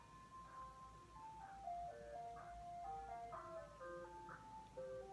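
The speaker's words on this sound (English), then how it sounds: "is that a goddamn ice cream truck?" An ice cream truck plays its jingle, a tinkling melody of bright repeating notes that sounds distant and faint over a low rumble of road traffic.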